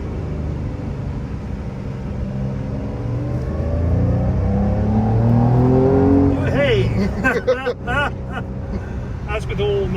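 A Porsche 996 911 with a manual gearbox accelerating, its engine note rising steadily to a loud rev while someone speaks over it.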